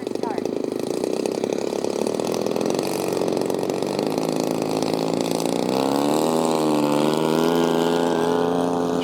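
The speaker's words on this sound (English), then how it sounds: "Engine's running just a touch rich." Glow or gas engine of a 77-inch RV-8 radio-controlled model airplane running slightly rich during takeoff, a loud steady buzzing drone that climbs in pitch as throttle rises, close by with a voice talking over it.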